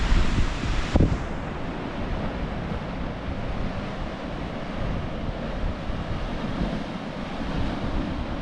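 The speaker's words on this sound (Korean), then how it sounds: "파도 소리가" Ocean surf on the rugged Pacific coast of Redwood National Park, California, a continuous roaring wash of breaking waves mixed with strong wind buffeting the microphone.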